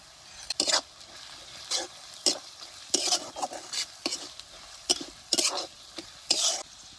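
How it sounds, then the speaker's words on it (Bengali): Onions frying in a pan with ground coriander, fennel, chili powder and turmeric in a village-style paneer do pyaza, with repeated loud bursts of stirring and sizzling over a steady low fry, no talking. "পেঁয়াজটা লাল লাল করে ভাজা হয়ে গেছে"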